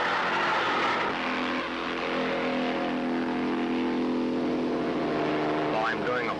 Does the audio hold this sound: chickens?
no